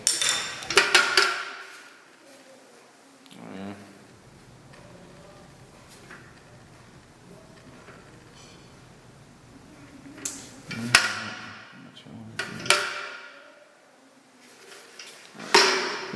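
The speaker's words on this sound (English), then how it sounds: "This little cross peen here allows me to get into that corner with that angle." Cross peen hammer tapping a metal champagne bucket during a repair, a few sharp metallic clinks and ringing taps in scattered clusters, separated by quiet stretches, close and fairly faint overall.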